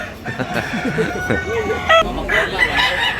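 An old gamecock of the Jaguar line crows at a busy poultry market in Tabunok, Cebu, close and loud, with clucking from other fowl. Someone talks over it.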